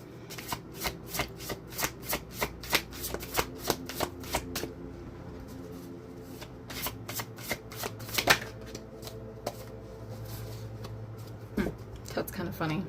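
Wisdom of the Elders oracle cards shuffled by hand in a run of crisp, rhythmic riffling bursts, close and fairly loud, with a soft voice talking beneath in places.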